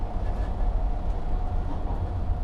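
A Toronto Transit Commission subway train rumbles steadily underground, a deep continuous roar with a faint tonal whine above it and no distinct pauses.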